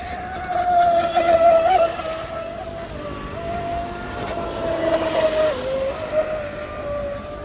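A Proboat SonicWake 36 RC boat on a 4S battery runs flat out through the corners, its high motor whine steady and fairly close, swelling and dipping as it carves around without any talk.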